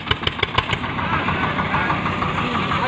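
An Eicher 241 tractor engine strains while stuck under a heavy load, with a steady loud rumble and a few knocking pulses at the start.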